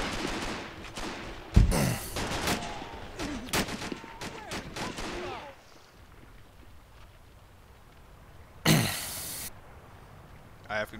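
Machine gun fire rattles across a WW2 battle in a video game, loud sustained bursts packed into the first half, then quieter ambience broken by a single sharp blast, with players talking over the shooting.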